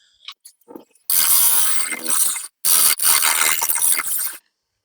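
A bowl gouge cuts a burl spinning on a woodturning lathe, giving loud harsh bursts of cutting noise in two long passes after a few quiet taps, with a short gap between them.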